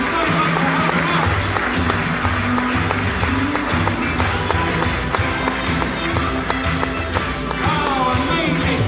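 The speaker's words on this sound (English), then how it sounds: "give these 3 gentlemen a wonderful round of applause" Live audience at a European creative festival performance applauding three volunteer gentlemen as they take their seats, a dense, sustained wash of clapping with crowd noise and a voice talking over it.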